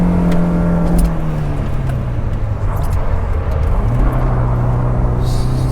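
Volvo 740 engine held at full throttle while drifting in snow, a loud sustained drone whose pitch sags and then climbs again as the car slides, heard from inside with no talk.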